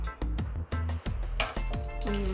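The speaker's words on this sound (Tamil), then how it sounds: "ஏலக்காய் பொரியுது" Cardamom and cashews fry in a pan with a bright crackling sizzle, broken by a few short gaps and metallic stirring clinks.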